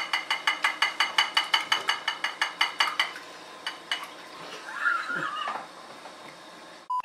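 Beaten eggs go into a bowl of bun dough with a quick run of bright, evenly spaced utensil clinks against the bowl, then a few scattered taps and softer shuffling, close by.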